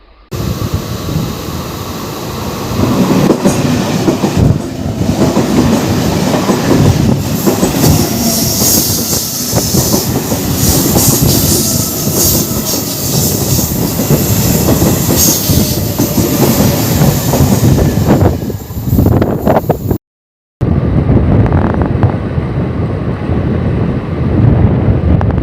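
Howrah to Haldia special passenger train running along a single-line section, a loud continuous rumble of wheels on rails with rhythmic clatter, squeal and wind buffeting, recorded from on board, with a brief dropout near the end.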